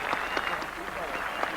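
Dense applause from huge crowds greeting Seve Ballesteros at the 18th green on the opening day of the 1988 Open Championship at Royal Lytham St Annes, continuous clapping with a commentator's voice over it.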